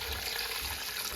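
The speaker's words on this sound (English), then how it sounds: "Add 6 cups of water." Water poured into a cooking pot of sliced onions while preparing aloo gosht, a potato and meat curry; a steady, close splashing pour runs alone for about a second.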